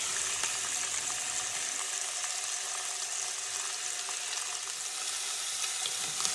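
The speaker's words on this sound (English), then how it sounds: "See that sizzle?" Pork baby back ribs sizzle loudly in a hot pan, a steady crackling hiss that carries on without a break.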